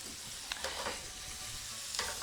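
Shrimp cooking in olive oil in a pan, a soft continuous sizzle with a few faint stirring clicks, fairly quiet and steady with no voices.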